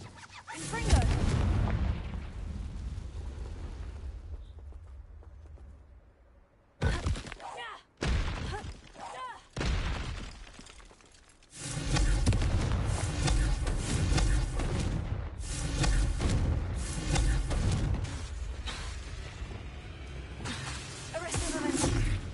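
A Confringo fire spell erupting in the Hogwarts Legacy video game, with heavy booming blasts, thuds and shattering impacts in loud bursts amid combat noise, a stretch of quieter sound before a sustained roaring barrage.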